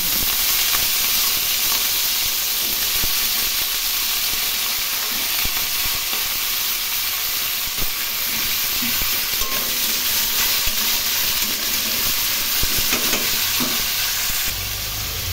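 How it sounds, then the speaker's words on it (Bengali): Potatoes and carrots fry in a pan with dried red chillies and black cumin, giving a steady, loud, continuous sizzle with stirring scrapes throughout and no talking. "আলু গাজর একটু ভেজে নিয়ে অন্যান্য সবজিগুলো দিয়ে দেব"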